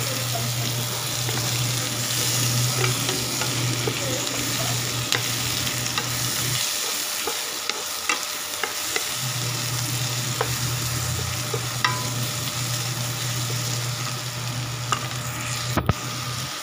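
Ham and tomato fry in a pan, a steady loud sizzle running throughout with a brief dip mid-way and faint clinks of stirring, no talk.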